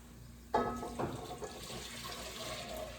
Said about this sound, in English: I'm gonna go ahead and put my broth back in.